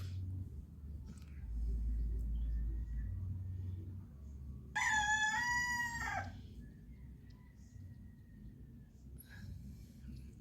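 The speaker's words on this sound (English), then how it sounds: "You hear that? That's the roosters communicating." Roosters crow in the pre-dawn dark at a campsite, around five in the morning. One loud, drawn-out crow rises mid-clip over a low outdoor rumble, with fainter fowl sounds in the background.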